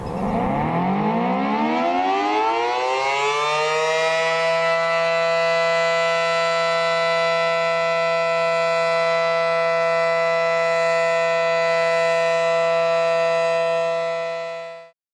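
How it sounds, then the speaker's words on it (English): A 500T civil defense air raid siren winds up from a low growl to a steady, piercing multi-tone wail that holds loud and sustained for over ten seconds before cutting off abruptly. "The 500T Siren slowly rotates 360 degrees in one direction when it's going off."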